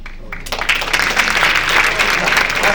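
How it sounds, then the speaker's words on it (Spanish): An audience at a film forum screening breaks into sustained applause after a brief quiet moment, a dense, steady wash of clapping filling the room at close range. "yo agradezco el aplauso"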